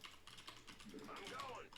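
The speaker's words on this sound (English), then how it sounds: "I imagine you guys can still hear the keyboard a little bit" Faint, rapid clicking of a computer keyboard being typed on during a live stream runs steadily beneath a person talking.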